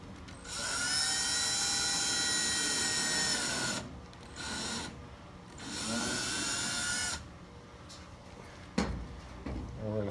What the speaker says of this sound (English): Alright guys, so we're going to drill a hole.